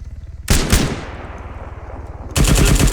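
Bursts of heavy .50 caliber machine gun fire in a combat video game, one rapid volley at the start and another near the end, loud and close, with a ringing decay in between.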